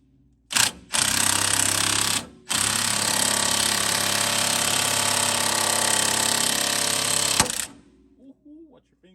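Rapid, loud mechanical hammering on a 22 mm socket during a ball joint replacement on a 2002 Trailblazer, in one short burst and then a long sustained burst, with a brief voice once it stops.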